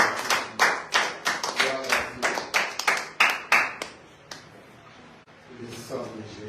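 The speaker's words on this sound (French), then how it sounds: "Je peux acclamer la parole." A church congregation claps in a quick series of sharp, loud bursts for about four seconds, then the clapping fades into quieter room sound with a little talk.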